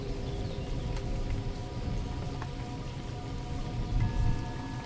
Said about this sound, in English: The rain is steady. The thunder is distant.